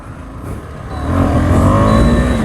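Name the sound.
KTM 390 Adventure motorcycle engine running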